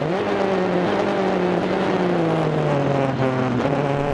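GT race car braking hard into the chicane at Zolder during a Supercar Challenge round, a loud engine note falling and shifting down through gears, continuous and close.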